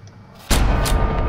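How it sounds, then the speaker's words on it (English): Harpoon gun firing in the puzzle game The Room: Old Sins, a single sudden heavy boom after a quiet moment, followed by a brief sustained rumble with a second sharp crack close behind. "Is this really what harpoon guns are like in real life?"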